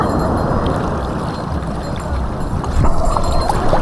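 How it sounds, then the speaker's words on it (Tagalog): Strong waves surge and churn close to the microphone, a loud rushing roar of water with wind buffeting, swelling louder toward the end. "Malakas yung alon ano?"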